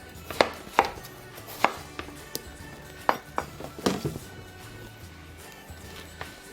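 Knife chopping watermelon into bite-size chunks on a board, a series of sharp, separate knocks and clacks at an uneven pace, close and clear with no voices.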